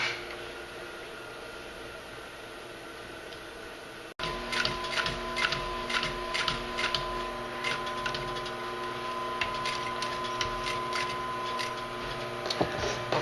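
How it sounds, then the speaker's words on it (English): A sewing machine stitches a leather overlay onto a tote bag with a steady, close mechanical hum and rapid ticking of the needle, continuous after a brief change partway through. "I'll sew the overlay on the other side of the bag"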